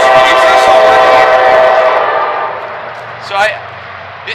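A passing train sounds its horn loudly and close. The long, sustained blast then fades away as rumbling continues underneath.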